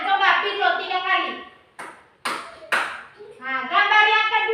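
Three sharp, close hand claps spaced about half a second apart, clean and loud, with a voice speaking before and after them.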